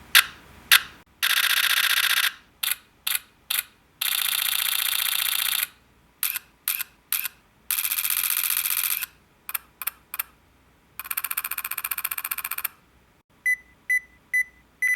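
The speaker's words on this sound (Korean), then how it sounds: "셔터 소리가 추가가 됐습니다." A Nikon Z 8 mirrorless camera plays its added realistic shutter sound, a long series of crisp, close electronic clicks, some single and some in rapid bursts, with faint beeps near the end.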